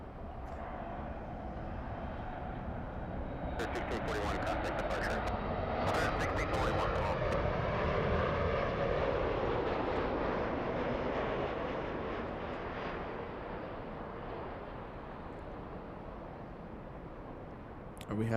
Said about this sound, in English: We have All Nippon 6 right now over downtown Los Angeles.